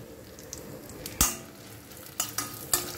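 Dal, asafoetida and dried red chilies fry in hot oil with a low, constant sizzle, broken by a few sharp spatula clinks and scrapes against the pan.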